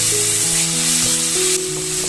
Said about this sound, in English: Add 1 large tomato chopped and saute till